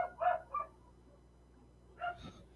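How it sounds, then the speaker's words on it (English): A domestic dog barks from another room, two quick barks followed after a pause by a third, at a moderate distance over a quiet indoor background. "my dog's barking again"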